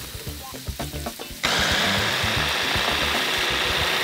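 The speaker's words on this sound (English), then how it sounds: "And let's blend this up." A blender or food processor whirs loudly and steadily, blending a chicken souvlaki marinade with lemon juice, cumin and salt, kicking in abruptly after a second of soft kitchen clatter and running close and continuous.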